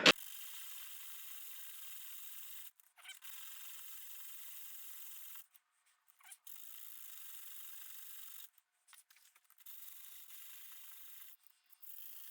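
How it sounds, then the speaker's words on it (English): Steady hand sanding on a wooden ring, a dry raspy rubbing in long strokes with a few brief pauses between them, quiet and close. "let's do some hand sanding"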